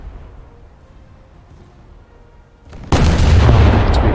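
A heavy naval gun salvo booms loudly in a warship video game, a sudden deep blast that follows a quieter low rumble and then sustains as a thick roar.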